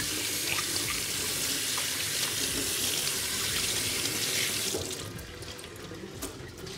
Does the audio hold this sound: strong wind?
no